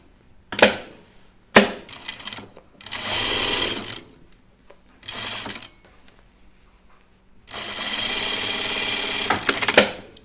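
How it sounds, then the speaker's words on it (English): A sewing machine stitches fabric down on a tunic, running in several bursts of whirring, the longest lasting a few seconds, between short clicks and quiet pauses, close and fairly loud. "let's stitch this down here"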